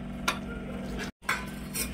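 Corn kernels are tipped into a mixer grinder jar for corn kebabs, making a few light, close clatters and rattles with a short pause between them, with no talking.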